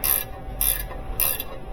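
A ratchet wrench clicks through three rhythmic strokes while tightening the bolts that hold a Jet 10-inch bench grinder to its stand, each pull a crisp, close, loud burst of rapid ratcheting with short pauses between.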